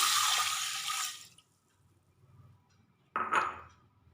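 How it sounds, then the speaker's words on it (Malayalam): Water poured into a pressure cooker holding green gram and salt, a close splashing pour that tapers off, then a short, sharp second burst of water or a clink near the end. "ഇനി ഇതിന് വേകാൻ ആവശ്യമുള്ള വെള്ളം ഒഴിച്ചു കൊടുക്കാം."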